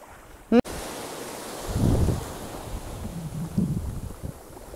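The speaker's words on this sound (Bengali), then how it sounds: "এই দেখো সব কিন্তু একের পর এক সমুদ্র স্রোত আসছে" Sea surf rolls onto Dublagadi beach near Kolkata with a steady wash, swelling and fading in waves, with wind noise buffeting the microphone throughout.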